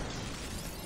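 Assault rifle fire sprays in the video game Superhot as one loud, dense burst of crackling noise with no gaps between shots.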